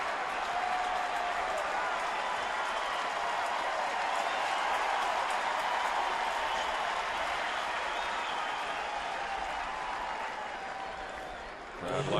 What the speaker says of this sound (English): Crowd liked the effort and the slide by Murphy.